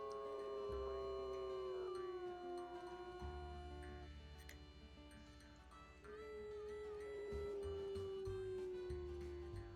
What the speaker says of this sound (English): Oh, they're howling.